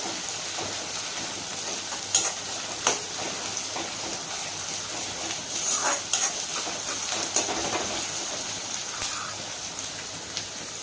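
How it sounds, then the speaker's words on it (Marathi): Ginger garlic paste sizzles steadily in a hot frying pan for mushroom bhaji, a constant crackling hiss with occasional spoon scrapes and stirring clinks, close up. "आपण आलं लसूण पेस्ट हे असं एकजीव करून घेतोय"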